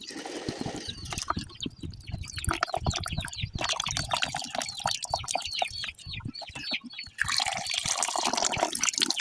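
Liquid poured through a strainer in a garden setting, with trickling and dripping splashes that come in bursts and pauses, close and fairly loud.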